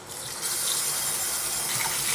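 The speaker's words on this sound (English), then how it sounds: "First thing we gotta do is wash our rice." Rice is rinsed under a running tap for fried rice, a steady close gush of water that swells after the first moment and pours continuously with faint swishing.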